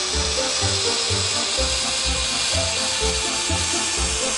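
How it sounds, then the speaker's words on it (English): Gemini Taurus 3 handheld ring saw trimming excess off a tile panel, a loud continuous grinding whine with a pulsing low rhythm as the blade works through the tile, close and steady with no talking. "Just use the handheld saw to trim off the excess."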